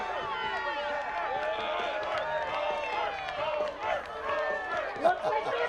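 Spectators at a baseball game shout and cheer through a mascot race, a dense, sustained swell of many excited voices with scattered claps, loud and close, holding steady for several seconds.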